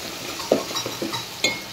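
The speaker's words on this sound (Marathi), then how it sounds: "अद्रक लसूणची पेस्ट ही चांगली परतून घेऊया आपण" Ginger garlic paste sautés in a pan alongside mashed tomato, with a soft sizzle broken by a few scraping stirs and light clinks of a spoon against the metal.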